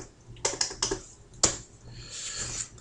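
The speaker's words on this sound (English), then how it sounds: "Whatever you want to type in there, anything that you want, you can type in any of these lines." Several sharp keystrokes on a computer keyboard while filling in an editable closing disclosure form, a quick burst of clicks followed by a single louder tap and softer scattered typing.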